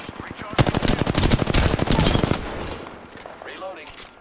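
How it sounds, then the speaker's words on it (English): Rapid automatic gunfire in the Apex Legends video game, a dense burst of loud shots lasting about two seconds that then tapers off, with fainter scattered game sounds afterward. "The enemies are shooting at me."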